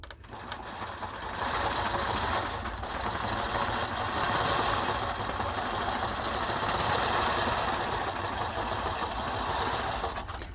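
A longarm quilting machine stitches through a quilt with a continuous, even, high-speed whirring hum, steady and close for about ten seconds, with no talk over it.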